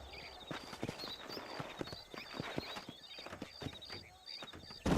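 Horse hooves clip-clop steadily in Red Dead Redemption as riders travel the desert outside Armadillo, a continuous run of close, even hoofbeats with no one talking.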